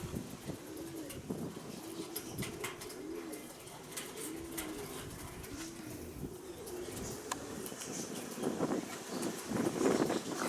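Pigeons coo in soft, repeated low warbles, with scattered faint clicks and rustling around them and no talking.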